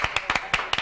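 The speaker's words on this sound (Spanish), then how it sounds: "Oye, ¡un aplauso!" A handful of quick, sharp handclaps close by on a live Christmas television variety show, an uneven patter of about seven claps in under a second.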